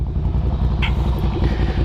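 Air-cooled Ducati Scrambler motorcycle engine held at full throttle, a steady, loud, gruff roar close by with a brief higher clatter partway through.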